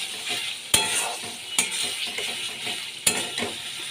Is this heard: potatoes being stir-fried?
yes